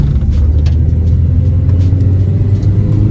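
A Honda Civic rolls down the road with its wheels rubbing, a loud steady low rumble of engine and tire noise close inside the car, with faint scraping ticks over it.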